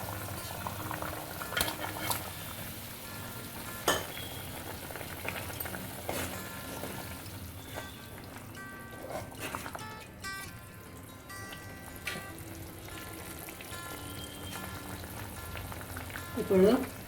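Egg and onion curry bubbling in a pan, a soft steady simmer with scattered spoon clinks and stirring, a brief louder clatter near the end, and faint speech in the background.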